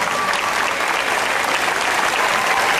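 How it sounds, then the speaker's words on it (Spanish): Audience applause for a dance performance at a Syrian cultural celebration in Buenos Aires, dense steady clapping from a large crowd throughout. "fuertes aplausos para Débora y Enzo Pastrana."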